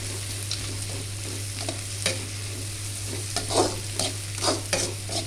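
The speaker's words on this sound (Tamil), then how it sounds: "இது சும்மா வறுக்கிறது." Dried fish frying in a pan, a steady broadband sizzle with a low hum beneath and occasional scraping stirs and crackles, continuous and fairly close, with no voices.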